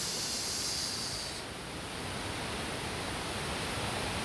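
Mantayupan Falls, the tallest waterfall in Cebu, roars as a steady, loud, broadband rush of falling water that fills the whole stretch without a break.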